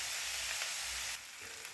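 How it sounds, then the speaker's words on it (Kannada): Quiet, steady sizzle of onion and tomato frying in a pan for dal, a soft continuous hiss that eases slightly partway through. "ಇದೆಲ್ಲವನ್ನು 1 ರಿಂದ 2 ನಿಮಿಷ ಚೆನ್ನಾಗಿ ಫ್ರೈ ಮಾಡ್ಕೊಳ್ಳೋಣ."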